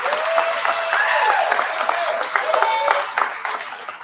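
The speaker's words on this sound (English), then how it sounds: "Let's give him a big round of applause." An audience applauds at a talk about big catfish, a dense, loud wash of clapping that rises and tapers over a few seconds, with some voices mixed in.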